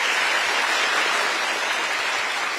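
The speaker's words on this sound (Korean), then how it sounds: "여러분 다시 한번 박수 부탁드립니다." Sustained applause from an audience of public officials at a lecture by the South Korean president, a dense, steady wash of clapping filling the whole moment with no voices above it.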